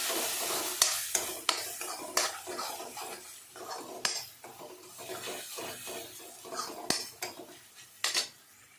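A spoon scrapes and clinks against a metal pan while masala jackfruit curry is stirred in oil, with a soft sizzle underneath and sharp utensil knocks recurring every second or so. Nobody speaks.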